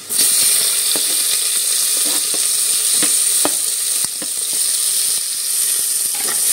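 Onion sautéing with garlic browned in a pan, a loud continuous sizzle with scattered spatula scrapes and ticks, close and without voices.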